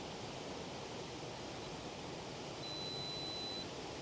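Shogomoc Falls pours in a constant, dense roar of rushing water, steady and close with no break, while a thin high tone runs faintly for a moment.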